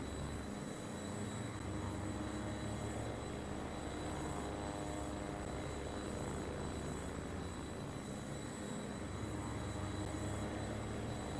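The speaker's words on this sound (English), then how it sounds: "Another train." A train in the railway strategy game Worldwide Rush gives a steady, continuous rumble with layered hum, holding evenly at moderate loudness throughout with no talking.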